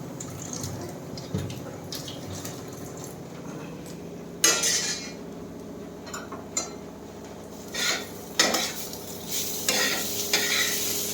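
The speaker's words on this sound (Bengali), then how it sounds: "উচ্ছে ভাজাটা মচমচে করবো" Bitter gourd slices frying crisp in a kitchen pan, stirred with a metal spatula: soft continuous sizzling broken by several sharp scraping and clinking strokes, with no talk.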